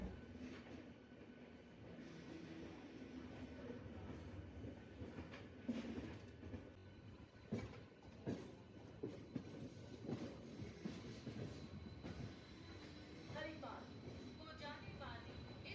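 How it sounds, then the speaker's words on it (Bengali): A Bandel-Howrah local train passes beside the track with a continuous rumble and irregular clattering wheel knocks, heard from on board another local, with some faint screeching toward the end and distant voices. "Down Bandel Howrah local cross করছে।"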